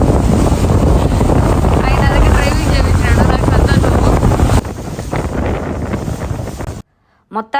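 Boat out at sea with heavy wind buffeting the microphone, a loud continuous roar of wind and engine or water, easing briefly before cutting out, with a voice talking over it.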